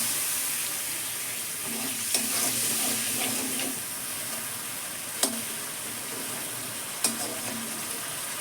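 A soft, steady sizzle of spice paste, mixed with water, frying in a pan, with a few sharp clicks of a utensil against the pan.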